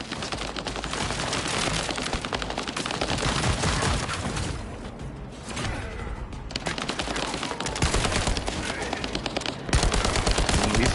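Dense automatic gunfire from a boss fight in The First Descendant rattles on almost continuously for the whole stretch, loud and close, with a brief lull in the middle before heavy bursts resume.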